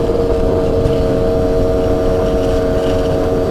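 A steady, loud engine drone holds at a constant pitch throughout, a CASA SST 265 motorcycle cruising at about 97 km/h and 5,700 rpm, with continuous wind and road rumble.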